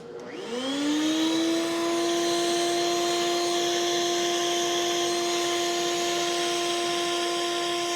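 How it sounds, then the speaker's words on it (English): A router table with a 3/8 inch beading bit, used to cut a spline for an old chair repair, spins up quickly into a steady, loud, high motor whine that holds evenly to the end. "I'll show you how I'm doing the spline on the router table"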